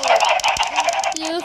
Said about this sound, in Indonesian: Oh, banyak ayam.